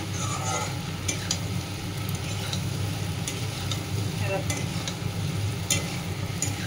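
Prawns fry in hot oil in a pan, a dense continuous sizzle close by, with scattered clinks and scrapes of a utensil stirring against the pan throughout; no voices.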